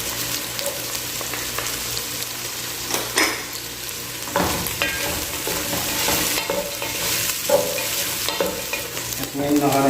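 Onion frying in a pan while cooking pancit canton guisado, continuous near sizzle broken by repeated scraping and clattering stirring strokes, with no talking.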